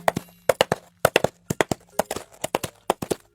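Coconut shells are knocked together to mimic a horse's hoofbeats, giving crisp, close clip-clop pairs in a steady galloping rhythm with no voices.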